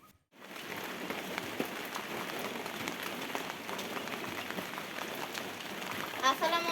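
Steady rain patters on a surface, a constant dense hiss of drops that continues throughout with no break.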